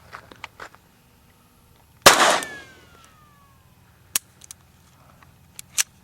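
A Walther P22 pistol fires one 36-grain hollow point round outdoors, a single sharp loud shot with a short ringing tail, followed by faint clicks and small handling knocks.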